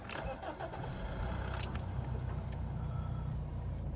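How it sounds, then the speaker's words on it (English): A car is cranked and its engine catches, with a brief jingle of keys at the start, then settles into a steady close idle rumble that carries on to the end, with no one speaking. "We're going to start the car again without it."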